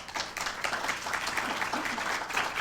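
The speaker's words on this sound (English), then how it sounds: "Since you applauded" Dense, steady applause from an audience at a college writers' conference, a continuous wash of many hands clapping at close range throughout.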